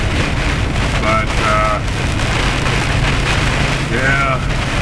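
Heavy rain driven by high winds pours down in a steady, loud, continuous wash with gusty rumble, while someone talks over it throughout.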